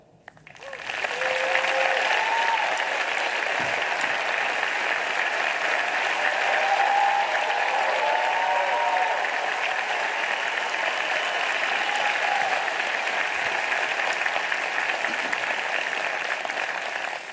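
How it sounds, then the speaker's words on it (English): Sustained audience applause fills a presidential debate hall as the Democratic and Republican nominees are welcomed, a dense, steady roar of clapping from a large crowd lasting throughout at full volume. "No noise except right now as we welcome the Democratic nominee for president, Secretary Clinton"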